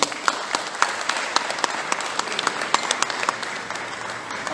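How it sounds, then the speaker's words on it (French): An audience at a political gathering applauding, dense sustained clapping from many hands with a few louder individual claps standing out, steady throughout. "on peut vous applaudir"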